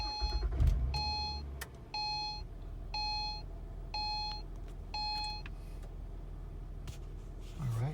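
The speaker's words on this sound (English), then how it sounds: "put your foot on the brake, hit the start button." A 2012 Acura TL cabin with a high-mileage car being started by push button: a string of evenly spaced electronic chime beeps rings out over a low steady hum, ending in a brief rising whir.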